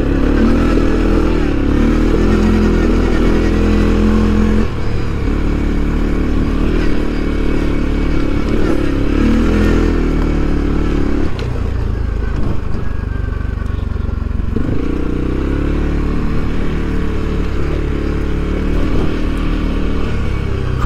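A CFMOTO CFORCE 400 ATV engine braking on a descent toward a dry creek, its motor droning steadily and loudly throughout with rough clattering and occasional dips in pitch, close and continuous with no voices.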